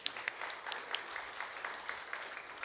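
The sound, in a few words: church congregation applauding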